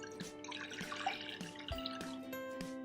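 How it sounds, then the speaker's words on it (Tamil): Water is poured into a pressure cooker for carrot almond kheer, a light splashing trickle with drip-like plinks and faint metallic ringing, fairly quiet and close. "தேவையான தண்ணியை ஊற்றிக்கலாம்."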